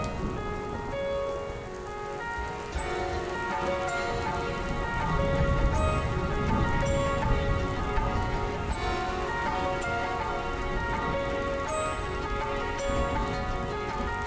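Steady rain pours throughout, dense and close, with drops pattering on surfaces, a soft musical score underneath and no voices.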